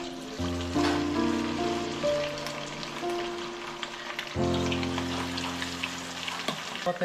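Chicken bone pakodas frying in hot oil at home, a steady crackling sizzle running the whole time beneath strong tonal hum and ringing background tones, close and fairly loud.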